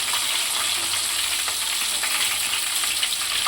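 Tempura prawns deep-frying in hot oil, a dense, steady sizzle with fine crackling throughout, close and continuous with no voices.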